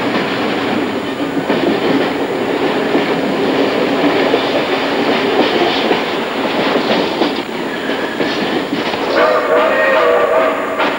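An Athens electric railway train runs along the tracks, a steady loud rumble with rhythmic clatter and a faint wheel squeal near the end, continuous throughout.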